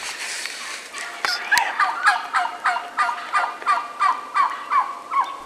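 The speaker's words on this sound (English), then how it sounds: "listening to all the gobbling going on" A flock of wild turkeys gobbles repeatedly in spring woods, roughly ten steady, evenly spaced gobbles at close range, with a couple of sharp knocks near the start.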